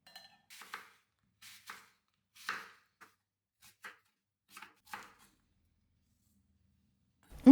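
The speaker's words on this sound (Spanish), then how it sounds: "Las voy a cortar por la mitad y luego en cubitos, tal cual con la piel" Red apples, skin left on, are halved and diced with a knife on a board: a dozen crisp, close chops in uneven bursts with quiet gaps, ending in a low thud.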